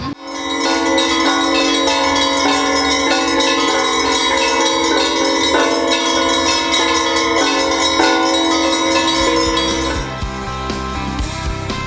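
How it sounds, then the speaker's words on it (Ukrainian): Bells ring in a rapid, rhythmic pattern at an outdoor festival, a dense and loud peal of many overlapping tones that carries on for about ten seconds before fading, with no voices. "ще кажуть, що дзвони вони лікують"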